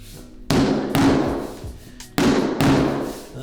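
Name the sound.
tapping Multiclic EZplanks tiles into place during installation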